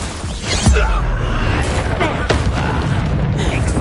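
Confringo blasting spells explode in Hogwarts Legacy combat against goblin loyalists of Ranrock, with sharp booms landing over a loud, busy battle mix and in-game voices.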